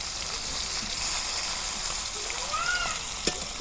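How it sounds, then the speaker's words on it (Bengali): Pieces of kalibaus fish fry in hot oil, a steady broadband sizzle with soft crackles and a brief sharp pop near the end, close up and uninterrupted by talk. "এই দেখো অনেক সুন্দর করে আমি মাছ ভাজা নিতেছি।"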